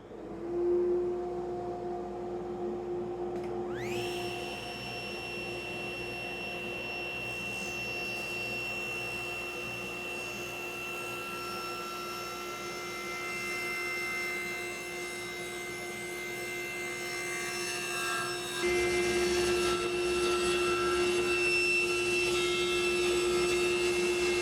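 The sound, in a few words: saw cutting a taper in a wooden bed support with a tapering jig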